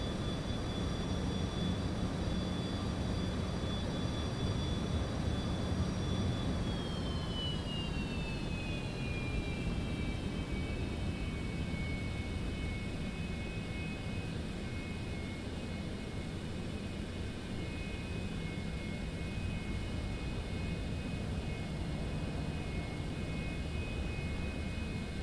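Citation X business jet engines in Microsoft Flight Simulator 2024 hold a loud, steady whine that shifts in pitch partway through, then settle into an even roar with no talking.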